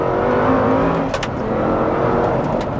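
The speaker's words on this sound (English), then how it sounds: "here we go, let's overtake someone" A 700 BHP car accelerates hard on a public road to overtake, its engine roaring loud and steady from close inside the cabin, with no talk over it.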